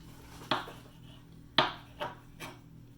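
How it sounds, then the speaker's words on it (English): A Pampered Chef utility knife cuts a roast into bigger chunks, giving four sharp, separate knocks against the cutting board with quiet pauses between them. "I'm just gonna cut it up into some bigger chunks so it can hopefully cook a little faster"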